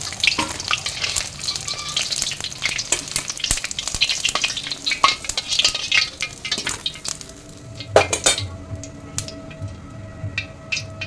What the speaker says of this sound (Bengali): এরকম করে লাল লাল করে আমি সবগুলো ভেজে নেব।